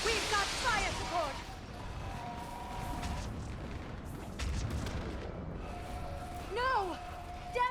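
In a Mass Effect 3 battle, gunfire and artillery fire rumble and boom through the scene, with repeated blasts at moderate distance under shouted dialogue and combat effects.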